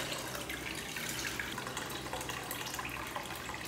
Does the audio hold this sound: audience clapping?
no